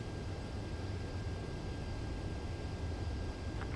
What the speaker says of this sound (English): Mage 2, you are cleared for landing.